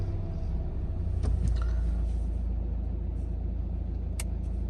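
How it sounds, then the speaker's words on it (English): A 2015-onwards Volvo V40 2.0 diesel engine starts and settles into a low, steady idle rumble, heard close with a few faint clicks and knocks over the even drone. "start the car"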